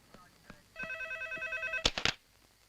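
A telephone rings with a bright, regular electronic trill that pulses steadily for about a second. Two sharp clicks follow, as of a handset being picked up, in a quiet room.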